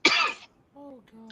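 A person gives one short, harsh cough up close, followed by a brief voiced sound.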